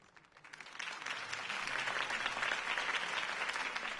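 Applause from a crowd after Harvey Dent's campaign speech in the Batman Telltale game, swelling from a quiet start into steady, dense clapping that fills the scene.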